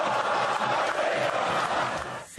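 Rival football supporters at a Cruzeiro match applaud and shout in a dense, continuous roar of crowd noise that cuts off abruptly at the end.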